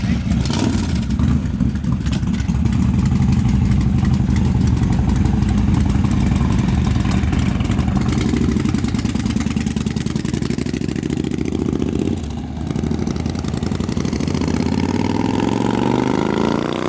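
Engines of a Harley-Davidson Low Rider S and a Kawasaki Bobber on a foggy California mountain stop, rumbling at a steady idle close by, with a brief dip in level and a rising rev near the end.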